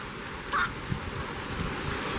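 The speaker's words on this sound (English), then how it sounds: "Yep, there's rain sheets." Sheets of heavy rain fall during a thunderstorm with gusty winds, a soft steady hiss at low level with a few scattered drop impacts and no talk.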